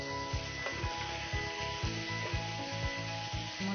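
Jackfruit (echor) fries in a pan for a vegetarian roast, covered with a lid, giving a steady close sizzle with soft scraping and stirring knocks at a regular pace.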